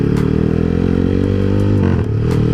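A big-cc motorcycle engine with a mini carburetor setup runs at a steady, loud idle, its low throbbing rumble continuous throughout with a brief dip near the end, no one speaking.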